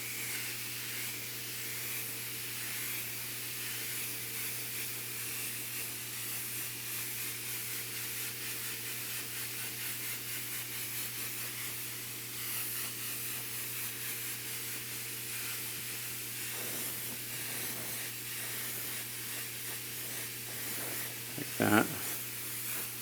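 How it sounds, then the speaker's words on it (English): A compressor-driven airbrush lightly mists transparent Scar Red paint onto a sculpted quarter-scale Aquaman figure, a steady close hiss of spray over a low motor hum, with a brief clatter near the end. "I'm taking some of this transparent Scar Red and just lightly misting it on"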